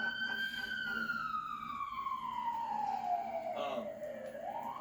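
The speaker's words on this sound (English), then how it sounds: "Wait for the siren to go past." An emergency vehicle siren passes by on the road, its loud wailing tone sliding steadily downward in pitch as it goes, then rising slightly at the end, with no talking.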